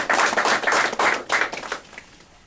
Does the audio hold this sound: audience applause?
yes